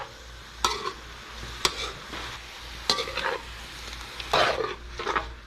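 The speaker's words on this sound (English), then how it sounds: "we're gonna go ahead and mix the shrimp in there" Shrimp for chop suey are stirred in a hot pan, with several sharp scrapes and clacks of a utensil against the pan over a steady low sizzle, close by.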